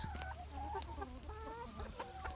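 Several farm chickens cluck and murmur close by in a steady, overlapping chatter at feeding time, with occasional sharper squawks over a low background hum.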